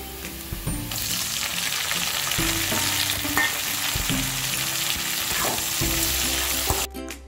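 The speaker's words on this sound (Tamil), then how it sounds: "நம்ம நறுக்கி வச்சுருக்க வெங்காயத்தையும் கருவேப்பிலையும் சேர்த்துடலாம், சீக்கிரம் நல்லா வதக்கி விடுங்க" Chopped onions and curry leaves sauté in a hot pan with a steady, loud sizzle, broken by repeated scraping thumps of stirring throughout; no talking.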